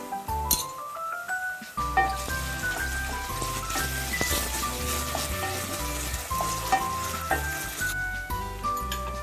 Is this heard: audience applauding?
no